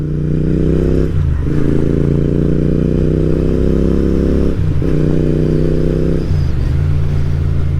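Deep, rumbling Royal Enfield 650 motorcycle exhaust close up, rising through the revs, dipping briefly at gear shifts, then settling into a steady throaty cruise. Loud and continuous.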